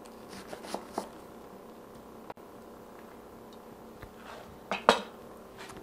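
A knife slices horizontally through a red onion on a cutting board, giving a few soft, close cuts and sharp taps against the board, spaced out over a quiet kitchen background.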